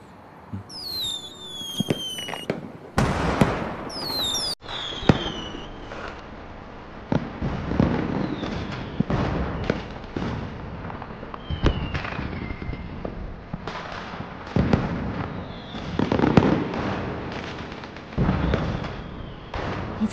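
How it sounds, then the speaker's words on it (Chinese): Fireworks bursting outdoors at night, a long run of loud cracks and booms with whistling rising launches early on, firing irregularly and close together without talk. "就是来带我看烟花。"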